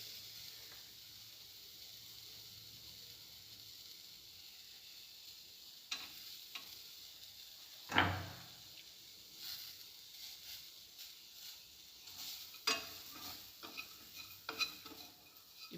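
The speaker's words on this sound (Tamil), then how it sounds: "அதுவும் இதிலே போட்டு நம்ம வந்து வதக்கி எடுத்துக்கலாம்." Pieces of coconut are sautéed briefly in a pan's residual heat for Chettinad-style raw banana kofta. Faint soft sizzling runs under occasional scraping stirs and a few sharper utensil clinks, all close and quiet.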